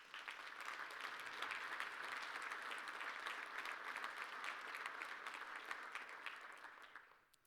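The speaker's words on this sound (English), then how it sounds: "So can we please give them all a round of applause?" An audience at a chamber of commerce annual meeting applauds its sponsors, a dense, steady wash of clapping that holds evenly for several seconds and then tapers off at the end. The sound is fairly distant and has no voices over it.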